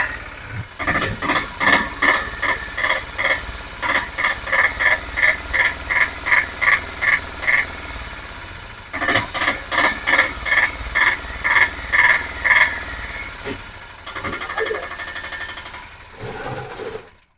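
An auto rickshaw engine with a pick-up problem revs in rapid, rhythmic pulsing bursts, loud and close, with a short pause before a second run of revs that then settles.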